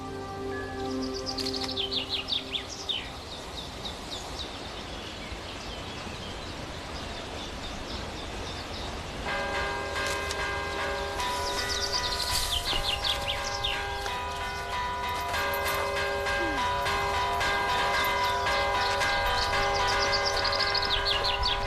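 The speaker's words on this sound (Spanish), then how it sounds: "Villavante celebra todos los años un encuentro de campaneros que compiten en este arte antiguo de tocar las campanas." Church bells in the village of Villavante, rung by bell ringers at a yearly competition, break in over quiet outdoor ambience with birdsong, then build into sustained, overlapping ringing struck again and again.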